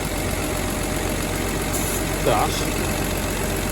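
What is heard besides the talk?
WW2 Humber staff car rebuilt engine idling off choke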